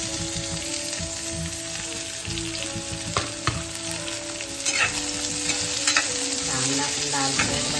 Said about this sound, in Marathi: तेल टाकते. आपण पहिला मसाला भाजून घेऊया. कांदे घेतले टाकून